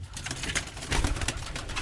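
Birmingham Roller pigeons coo softly in a pigeon loft, a low murmuring coo under steady rustling and broadband background noise, close but faint.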